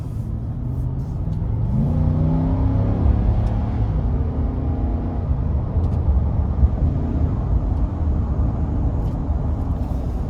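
A 2024 Nissan Titan XD PRO-4X pickup truck accelerates onto an interstate, its engine note climbing smoothly in pitch under a steady road roar, heard from inside the cab.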